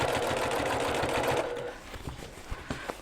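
A sewing machine runs steadily, stitching a reversible bucket hat's lining to its top fabric, then slows to a few separate clacking stitches.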